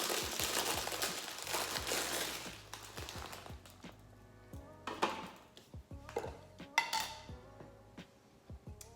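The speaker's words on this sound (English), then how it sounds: "you will cut up the banana" A knife cuts up a banana on a board or plate for rice cakes, giving a run of soft clinks and knocks, with a scrape at the start and a few sharper taps toward the end, no voices.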